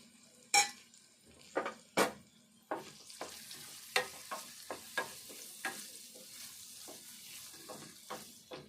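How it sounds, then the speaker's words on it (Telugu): Vegetable pieces with turmeric fry in a pan, a soft continuous sizzle broken by sharp scraping stirs and clinks of a spatula against metal, loud knocks early on then steadier, quieter strokes. "ఇవన్నీ మంచిగా ఫ్రై చేసుకోవాలి"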